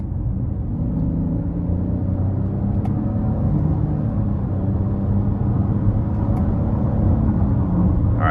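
A 2023 Cadillac XT5 Sport accelerates under paddle-shifter control, a loud, steady low engine and road drone from inside the cabin with faint brief clicks as gears change.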